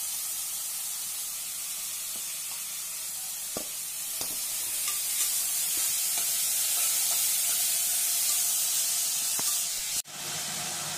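Two medium chopped onions fry for mushroom biryani, producing a loud, dense, continuous hiss and sizzle close by, with a few faint stirring taps and a sudden drop near the end.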